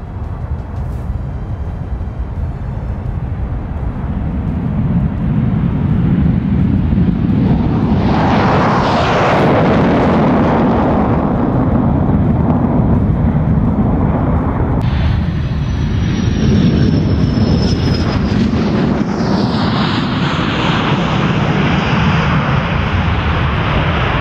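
A Panavia Tornado twin-engine, variable-sweep wing combat jet passes with a loud, sustained roar that swells and rumbles, its engine noise building toward a close flyby before fading to a steady distant drone.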